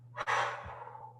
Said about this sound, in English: Good breathing.